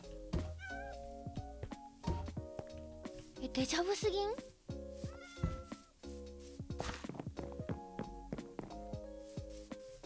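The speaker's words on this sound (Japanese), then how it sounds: "ね、にゃんこいるね。" Minecraft cat meows from a video game, several short mewing calls scattered over game background sounds, with someone talking over them.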